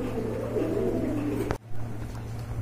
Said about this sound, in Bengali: মাশাআল্লাহ কতটা সুন্দর, কিউট, চমৎকার ডাকে কবুতরগুলো